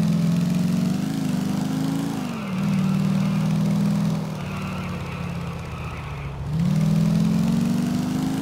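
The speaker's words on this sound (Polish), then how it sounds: "Ale ten motor brzmi, kurde, nieźle." A motorcycle engine in the video game Grand Theft Auto IV drones with a steady, throaty hum, dipping and rising in pitch as the throttle eases off and builds again, loud and close with no talk.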